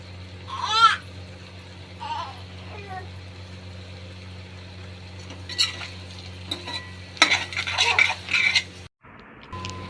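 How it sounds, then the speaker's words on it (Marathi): Sliced eggplant sautés in a pan while being stirred, with intermittent scraping and utensil clinks over a faint sizzle, and a voice speaks briefly in between. "हे बघा चांगलं परतून घेतल्यानंतर आता याच्यावर दोन दोन ते तीन मिनटं मला असंच ढक्कन ठेवून मी त्याला असे शिजू देणार आहे"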